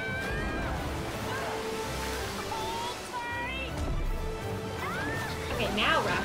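Rushing water of a waterfall and rapids in an animated fantasy show, a continuous churning roar under layered music and character voices throughout.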